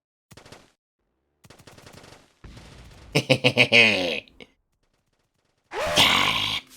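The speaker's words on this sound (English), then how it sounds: "Don't you just love the sound of a minigun in the morning?" Rapid bursts of heavy automatic minigun fire in a video game, several short volleys separated by pauses, with strained grunts and shouts near the end.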